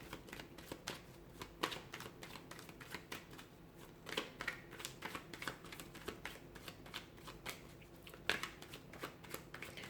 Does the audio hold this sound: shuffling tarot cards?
yes